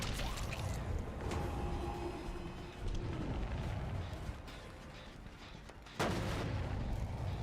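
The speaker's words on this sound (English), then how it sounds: "There's so many explosions going on." Rumbling, booming explosions go off repeatedly in the video game Dead by Daylight, forming a dense, loud barrage with a sharp blast near the end and no talking.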